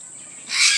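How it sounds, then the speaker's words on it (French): A single brief, sharp screech from Alexandrine parakeets, rising suddenly out of quiet background hiss and fairly close. "c'est des alexandrines, nommés comme ça par Alexandre le Grand"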